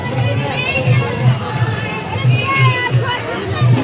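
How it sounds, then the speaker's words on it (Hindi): Dense crowd at a busy Chhath festival gathering, with people heading home and children among them: a steady, close wash of overlapping voices and chatter, with a faint low rhythmic thumping underneath. "तो बहुत ज़्यादा भीड़ हो रही है यहाँ पर और लोग वापस भी जा रहे हैं अब घरों को।"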